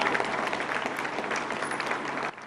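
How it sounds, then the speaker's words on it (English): A crowd applauds at a memorial homecoming, a dense, steady wash of clapping that stops abruptly near the end. "And finally, applause."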